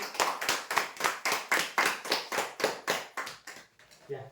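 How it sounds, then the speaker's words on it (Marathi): A crowd at a prize draw in Chandrapur claps in a steady, rhythmic beat, about a dozen synchronized claps close by that fade out at the end. "जोरदार टाळ्या"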